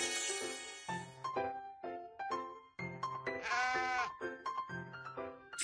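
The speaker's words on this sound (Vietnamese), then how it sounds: "Cừu" Sheep bleating from a BabyBus children's video game, several wavering bleats in a row over light jingly game music, clear and close.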